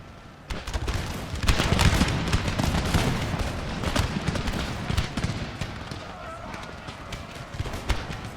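Line infantry musket volleys crackle in Empire: Total War during a siege of Philadelphia, a dense barrage of overlapping shots and battle din sustained over several seconds, mixed with scattered cracks and background commotion.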